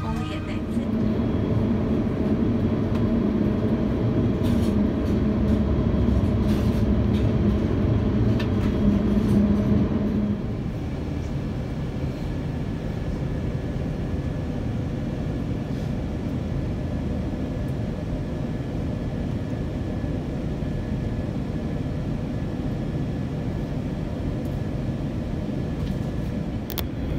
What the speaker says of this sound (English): Quick taxi to runway 21 and then we're ready for our departure.